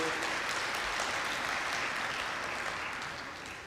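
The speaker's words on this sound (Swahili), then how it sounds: "Naomba makofi mengi kwake." An audience claps at a health summit in Tanzania, a dense sustained round of applause that holds steady and then tapers slightly toward the end, with no voices over it.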